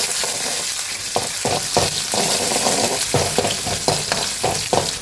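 Green chilies and shallots sizzle and fry steadily in hot oil in a pan, with repeated stirring knocks breaking through the continuous crackle; no talking.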